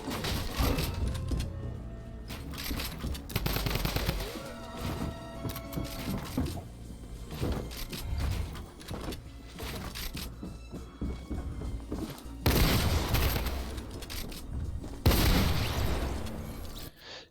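Shotgun blasts ring out during a close-up box fight in a competitive building shooter, with booms and bursts scattered through busy game noise of building, movement and pops, and the loudest shots near the end.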